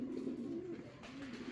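Uzbek pigeons, a hen of the Qorasoch line among them, coo softly in low, rolling repeated calls, faint and continuous with no talking.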